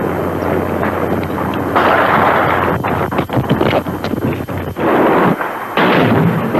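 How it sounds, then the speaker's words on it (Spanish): Dense, continuous gunfire and booming artillery crackle through a noisy, wind-buffeted recording, loud and sustained with sharp bursts throughout. "Continúan los tiros."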